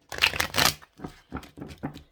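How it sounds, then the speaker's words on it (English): Tarot cards are shuffled by hand in close, crisp bursts of riffling and flapping, one longer flurry followed by several shorter ones. "So let's go ahead and shuffle."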